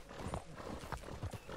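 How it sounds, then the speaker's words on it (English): Horse hooves clip-clop in Red Dead Redemption 2, a quiet uneven run of soft thuds as the animal climbs, faint and close with nothing else prominent. "Come on, horse, you can do it."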